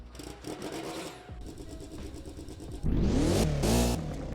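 A Lancia Delta's engine starts up in the Roblox game Driving Empire, a steady mid-pitched whir that swells into a louder, rising rev near the end, heard alone without talk.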